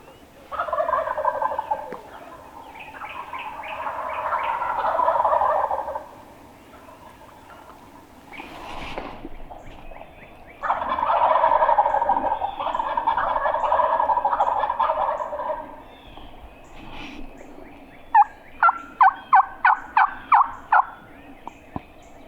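Wild turkeys gobble in several long, rattling bursts at a moderate distance, followed by a quick series of sharp, evenly spaced calls.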